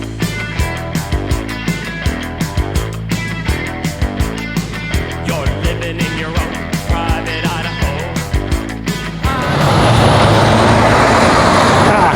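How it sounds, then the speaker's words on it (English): A steady rhythmic thumping pattern runs for several seconds, then heavy road traffic swells in as a loud, close rumbling wash of truck and vehicle noise, with a passing engine whine. "Never sure if this mic is going to pick up a lot of the truck and the vehicle sounds"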